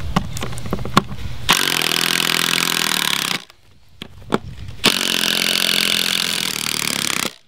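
A power tool unscrews screws from the wooden planks of a knife-throwing target. The motor whirs loudly in two sustained runs of a few seconds each, separated by a short quiet pause, with brief clicks between them.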